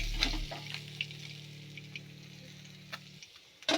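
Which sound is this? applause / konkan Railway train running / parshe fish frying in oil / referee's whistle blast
parshe fish frying in oil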